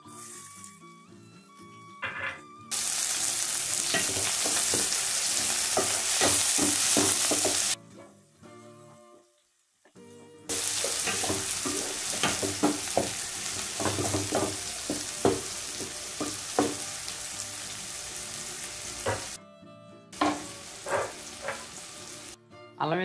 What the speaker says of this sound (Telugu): ఆయిల్ హీటెక్కిన తర్వాత ముందుగా చిన్నగా కోసుకున్న పచ్చిమిర్చి కూడా వేసుకోవాలి. అలాగే చిన్నగా తరిగిన ఉల్లిపాయలు కూడా వేసుకోవాలి.